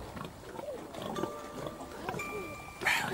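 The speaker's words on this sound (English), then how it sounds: "Pigs. Yeah, pigs." Pigs grunt and oink on a farm, moderately faint and mixed with background voices and other activity, ending in a louder burst.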